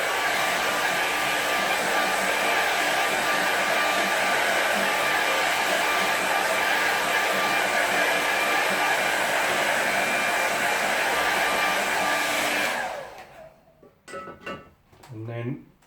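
A hair dryer blows steadily and loudly for about twelve seconds to dry a watercolour painting of a moorland scene, then cuts off, followed by a few faint handling sounds.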